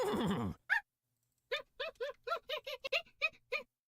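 A voice actor imitates a hyena for a sound effect: a short cry, a pause, then a rapid run of about ten clipped, rhythmic whooping giggles, close and dry.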